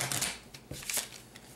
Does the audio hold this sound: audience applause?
no